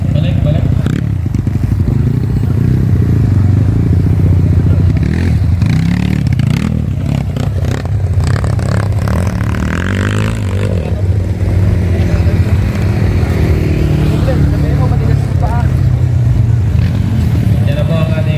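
Dirt motorcycles race through an endurocross course at a Kawasaki Endurothlon event, engines revving and rising in bursts with clattering and scraping, as an announcer speaks over the racing the whole time.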